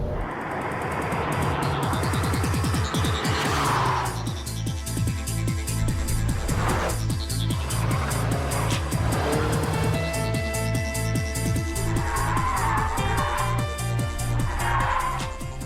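A 2002 Lotus Esprit V8 sports car driven hard, its engine rising and falling through revs with gear changes while tires squeal through corners, loud and close throughout.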